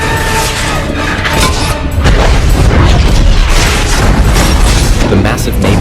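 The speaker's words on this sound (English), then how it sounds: "The moment it approached, he fired decisively." A rocket launcher fires in a movie scene and a massive napalm explosion follows, a loud, dense roaring blast that swells about two seconds in and rumbles on to the end.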